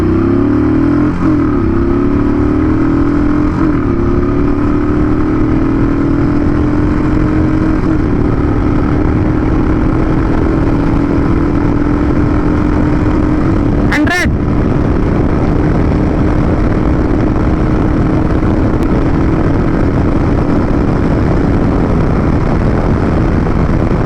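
A Royal Enfield motorcycle accelerates hard toward top speed, its engine note rising steadily and droning loud and close over continuous wind rush, with a brief sharp burst partway through.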